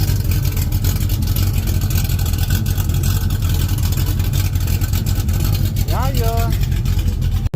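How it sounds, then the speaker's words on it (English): A 1967 Chevrolet El Camino small-block V8 with a misfire idles low and rough, a loud steady engine drone close by, while someone briefly speaks over it near the end. "Idle's kind of low. I'm going to turn it up, but yeah, sounding a lot better."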